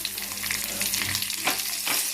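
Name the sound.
curry leaves sizzling in tempering oil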